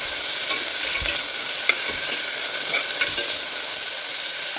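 Tomato, carrot and beans sautéing in a pan for nombu kanji, a continuous close sizzle with occasional scraping clicks of a stirring spoon, no talk.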